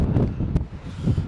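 Strong mountain wind outside the refuge on Mulhacén, buffeting the microphone as a loud, steady, low rumble with gusty surges and no voices.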